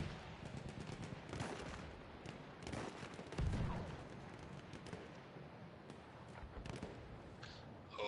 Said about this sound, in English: In the smoke, shooting wildly.